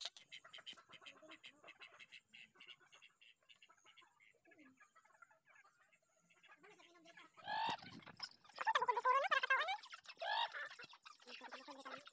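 Native chickens on a farm cluck and squawk in loud bursts near the end, after a quiet stretch of faint rustling and distant bird calls.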